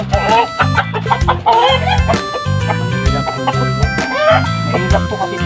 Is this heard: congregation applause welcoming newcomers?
no